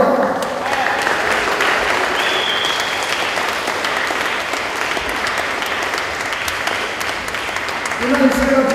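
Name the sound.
congregation clapping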